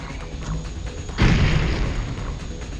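Super weapon fired in the N64 racing game wipEout 64, a single deep booming blast that hits suddenly and decays into a rumbling wash over continuous game sound.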